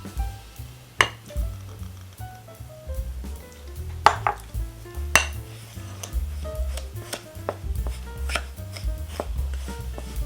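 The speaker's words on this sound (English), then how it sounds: "The first thing I have to do is mix the sugar and the flour together." Sugar and flour for a vintage strawberry pie are mixed in a bowl with repeated utensil taps and scrapes against the dish, an irregular knocking rhythm heard close, with no talking.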